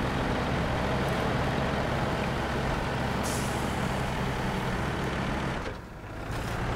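Truck engine in the video game Snowrunner, a loud steady diesel drone with grinding strain and a brief hiss partway through, dipping near the end before resuming, with no talk over it.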